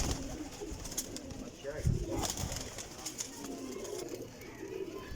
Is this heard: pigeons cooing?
yes